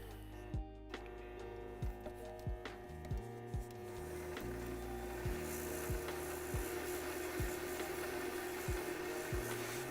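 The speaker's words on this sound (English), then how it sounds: "keep sanding it with these micro sanding pads" Micro sanding pads rubbing against a ring, a steady scratchy rasp with repeated low thumps spaced about a second apart, growing denser and brighter partway through.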